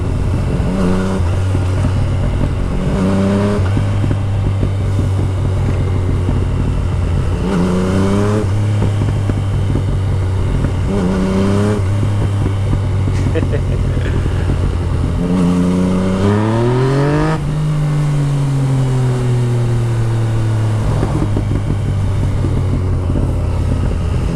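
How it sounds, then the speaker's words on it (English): A loud 2014 Yamaha MT-09 with a full Akrapovič exhaust revs hard in repeated bursts, each pull rising in pitch before dropping, with a raw, throaty exhaust note close by. "MT09, the full Acra exhaust on it."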